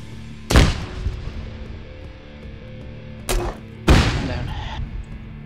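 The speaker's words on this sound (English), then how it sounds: "Lots of frags and GLs going off" Frag and launcher grenade explosions in a video game tournament match, three sharp loud blasts with short decaying tails, the last one longest, over a low steady game background.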